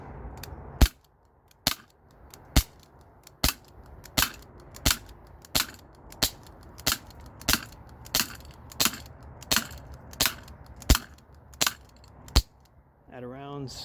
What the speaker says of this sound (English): This can is getting destroyed by that Glock 19 Gen 3.